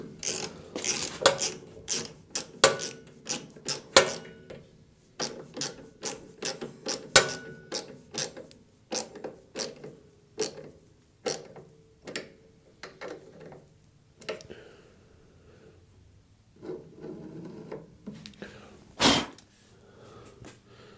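A 7mm socket ratchets small screws on a Wixey digital planer gauge, a close series of quick clicking bursts and light metallic ticks with short pauses between them.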